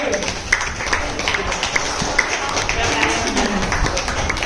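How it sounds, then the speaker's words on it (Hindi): Audience clapping at a devotional bhajan for Radha Rani, an uneven patter of hands with sharper taps standing out, mixed with voices and background music. "एक बार जोरदार ताली बाजी दिखाने के लिए"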